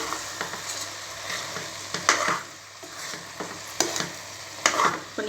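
Soaked, washed rice being stirred into a pot for chana biryani, with a spoon scraping and clattering in repeated bursts over a soft background sizzle.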